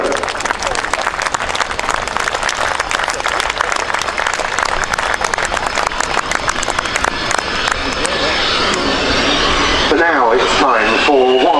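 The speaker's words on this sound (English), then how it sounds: "Major Henrik Björling with the Swedish Air Force Gripen" A Swedish Air Force Saab JAS 39C Gripen fighter jet flying a display at the RIAT 2022 airshow, its loud continuous jet roar swelling and shifting pitch as it passes, with crowd noise throughout.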